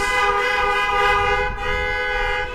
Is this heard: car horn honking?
yes